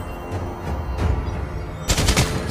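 Rapid bursts of automatic gunfire from a hero in the mobile game Mobile Legends: Bang Bang, firing in quick rattling volleys over a busy game soundscape.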